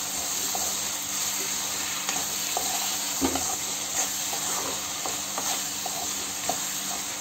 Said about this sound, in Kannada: ಮಿಕ್ಸ್ ಮಾಡಿ ನೀಟಾಗಿ ಫ್ರೈ ಮಾಡ್ಕೋಬೇಕು